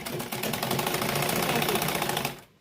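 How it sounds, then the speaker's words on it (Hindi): A domestic sewing machine stitches fabric while a kurti zip is attached, giving a steady, rapid mechanical rattle of needle strokes that runs loud and close, then stops abruptly near the end. "ऐसे आप सिलाई डाल दीजिए।"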